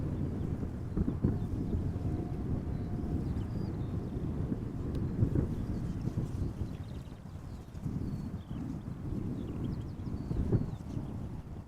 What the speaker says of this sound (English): Dreamliner 10, KLM 100 years special livery, arrival from New York JFK